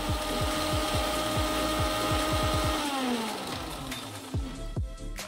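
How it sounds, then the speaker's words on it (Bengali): Mixer-grinder jar blending strawberry lassi runs loudly with a steady motor whir and churning, then the motor winds down partway through, leaving softer rattling and a few bumps. "সব কিছু 1 মিনিটের জন্য মিক্সিং জারে ব্লেন্ড করে নিয়েছি"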